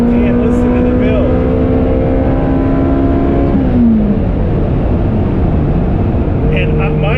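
Ferrari F355 Berlinetta engine pulling through the revs in gear, a loud continuous rising howl that climbs steadily, dips briefly, then rises again, with someone talking over it.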